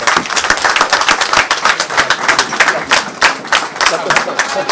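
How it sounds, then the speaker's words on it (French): An audience at a ministerial handover ceremony applauds the minister with dense, continuous clapping from many hands, loud and close, holding steady throughout. "je vous demande encore d'applaudir Monsieur le ministre Diène Farba"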